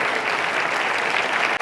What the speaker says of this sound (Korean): 되면은 박수를 한번 쳐보십시오.